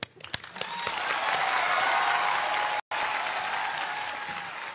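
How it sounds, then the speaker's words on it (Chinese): A theater audience at a Chinese crosstalk comedy show claps loudly and steadily, with a brief cut in the middle before the applause carries on. "掌声鼓励"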